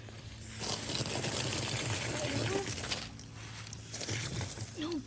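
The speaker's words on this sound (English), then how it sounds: "So, this hose spigot's not on right. Should not be leaking this much." Water gushes and splashes steadily from a leaking hose spigot at a greenhouse build site, a loud continuous rush that briefly drops away and returns, with people talking nearby.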